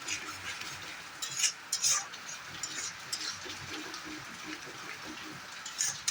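Jackfruit seed curry (dalna) being sautéed in a pan, with soft stirring scrapes and faint, steady frying hiss throughout, plus a few brighter clinks of a spatula against the metal.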